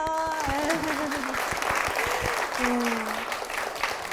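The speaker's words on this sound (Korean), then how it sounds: "박수 주세요." Steady applause from a church congregation fills the whole stretch, with voices and a few tonal sounds rising over the clapping.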